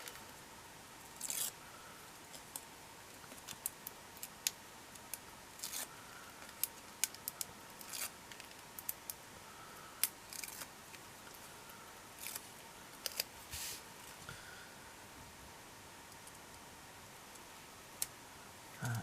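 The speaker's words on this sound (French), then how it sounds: "On va couper un peu l'excédent qui sort" Scissors snipping off the excess paper on a handmade 3D card, a quiet scattering of small crisp clicks and snips at irregular intervals over a faint steady background hum.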